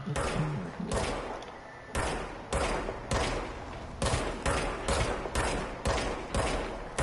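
Video game gun firing in bursts, a run of loud, sharp shots spaced roughly half a second to a second apart, close and punchy, each followed by a brief decay.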